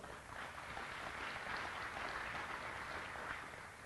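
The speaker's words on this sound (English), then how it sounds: "Let's give them a round of applause as well." An audience at an economic outlook conference luncheon gives a steady round of applause, dense clapping that holds at an even level throughout.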